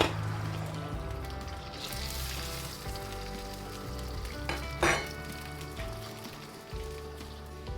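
Prawns sizzle and crackle steadily in a hot pan for fried rice, a dense continuous frying hiss with a brief louder spatter midway, close and without voices.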